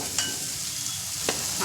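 Onion frying in a pan for a bell pepper curry, a loud close sizzle throughout, broken by two brief clinks of a spoon against the pan.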